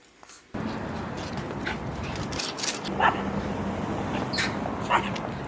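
A dog indoors whimpers and gives short yips and barks, close by, repeating in brief bursts over a steady background hum.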